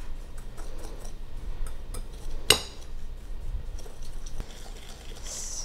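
A hand stirrer clinks and scrapes in a bowl of apple cobbler batter, soft irregular taps with one sharper knock midway, close and quiet.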